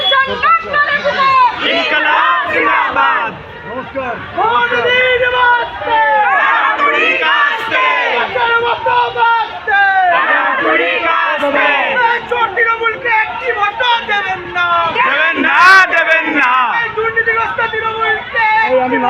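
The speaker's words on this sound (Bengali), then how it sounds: "they they slogan they" Crowd of protesters chanting 'go back' slogans at a CPIM candidate, a dense mass of shouting voices in rhythmic bursts, loud and close, with individual shouts rising over the chant.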